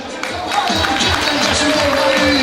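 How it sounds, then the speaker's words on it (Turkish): An audience applauds the organizing committee at a traditional gathering, a dense, steady patter of many hands clapping at close range that builds slightly and holds, with a voice faintly audible underneath. "Hepsine bir alkış."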